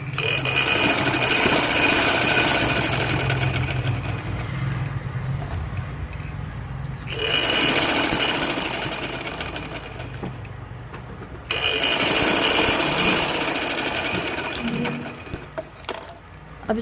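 A sewing machine stitches fabric loops in long steady mechanical runs, stopping twice for a few seconds before restarting, loud and close with no talk.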